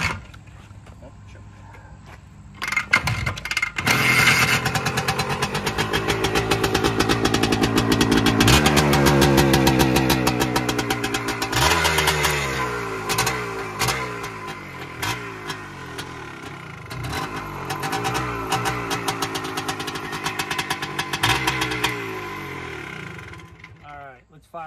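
Small Harley-Davidson dirt bike engine with its exhaust baffle still fitted, started and running near the microphone, its steady idle and blips of throttle continuing throughout with talking over much of it.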